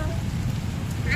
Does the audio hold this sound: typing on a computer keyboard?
no